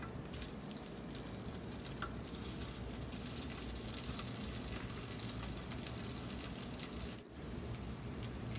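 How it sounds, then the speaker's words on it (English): A steady, crackling sizzle of food frying in a pan, close up and continuous, with no voices. "I love the sound of that sizzle."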